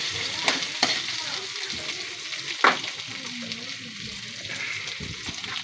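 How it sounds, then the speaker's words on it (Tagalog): Garlic and toppings for Filipino fried rice sauté in a hot pan with a continuous close sizzle, broken by several sharp scrapes and clanks of a spatula stirring against the pan. "Ayan na, kulay brown na yung ating bawang. Lagay natin to. Gisa din natin to ulit."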